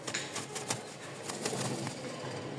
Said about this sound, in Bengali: জোড়া কাগজি কবুতর, অনেক দিন পর আসলো কাগজি কবুতরটা